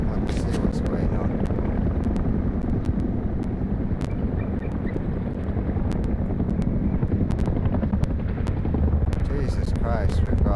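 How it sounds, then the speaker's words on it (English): A helicopter flies over a Rust game map while a bunker base is shown, its steady rotor drone and wind-like rumble filling the whole stretch loud and continuous, with faint clicks on top and occasional talk underneath. "we've got a heli over at there, we've got a heli just leaving the map"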